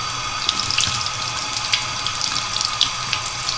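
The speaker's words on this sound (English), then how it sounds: "There it goes, hot water." Water streams steadily from an Anzzi KF-AZ127 single-lever waterfall bathroom faucet, a close, even rushing splash that stays constant throughout, with no voices.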